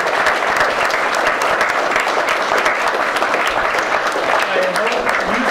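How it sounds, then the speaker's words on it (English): A crowd applauds at a Startup Grind Copenhagen event after an angel investor's talk, a loud, steady wash of many hands clapping that fills the whole stretch without a break, with no voices over it. "Let's give him a huge applause."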